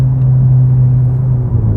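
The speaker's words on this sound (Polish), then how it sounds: "No to nie rozgrzany wydech jest." Tuned exhaust of a VW Golf VII R idling, a loud, steady deep rumble with a constant low burble, close by and without speech.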